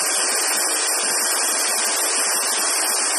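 A Minster TR2-60 ultra high speed press runs continuously in an industrial setting, giving a dense, steady, loud mechanical roar with a rapid, blurred stroke rhythm and no pauses.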